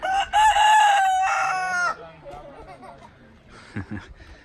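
A rooster crows loudly nearby in a long, shrill call, followed by softer clucking and low background talk.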